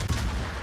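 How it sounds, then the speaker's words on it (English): Naval gunfire from a warship's main battery salvo in World of Warships, a single heavy booming blast at the start that rolls into a dense, sustained rumble. "I send one salvo out just to try to quick snipe him"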